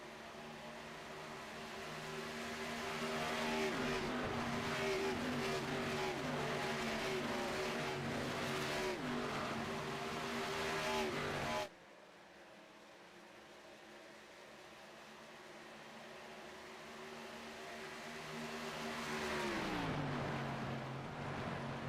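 ARCA stock cars roar around Atlanta in a sim racing game, a loud steady engine drone with multiple cars close together, shifting tone midway and continuing without voices.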